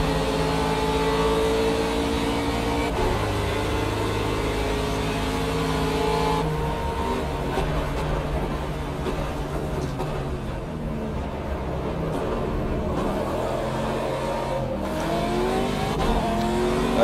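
A GT3 race car in the Project Cars racing game drives continuously for the whole stretch, with a steady engine drone that rises and falls through gear changes and occasional tire squeal, loud and up close, with no talking.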